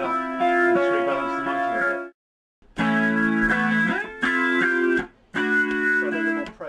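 Distorted electric guitar plays sustained chords in several bursts separated by short silences, loud and gritty with a thick effected tone.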